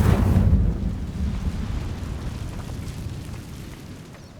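Incendio fire spell cast in Hogwarts Legacy, a loud low whooshing burst of flame that swells at once and then fades into a rumbling roar over a few seconds.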